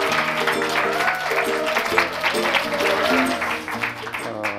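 An audience at a Korean talk concert applauds to welcome a film director onto the stage, with steady clapping under a bed of musical tones throughout.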